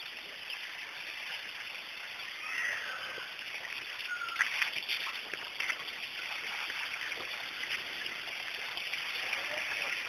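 Water pours steadily from a stone spout (dhara) into a bathing area, a continuous faint splashing rush with occasional louder splashes, heard from a short distance without clear talk.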